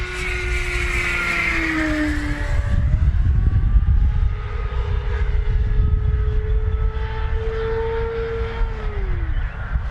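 An E-flite V1200 electric RC plane flies inverted in strong wind on a 22.3-volt battery. Its motor makes a high, sustained whine that bends up and down in pitch as it passes, over loud wind rumble, with no voices.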